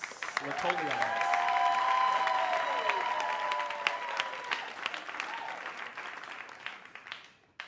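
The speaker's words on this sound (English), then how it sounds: "Keep that applause going for our second storyteller of the night, Shira Latolias." A crowd at a storytelling night applauds for the next storyteller, warm sustained clapping with some cheering and a pitched whoop or whistle early on. The sound fades out toward the end.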